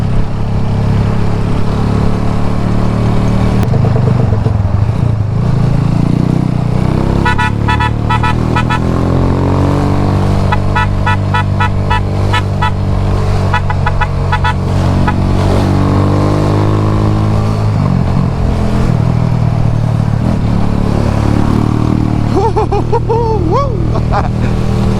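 A motorcycle ridden through road traffic in Jamaica, its engine droning loud and close throughout, with gear changes and revs rising and falling, wind rush and surrounding vehicle noise, and a rider's voice briefly heard over it.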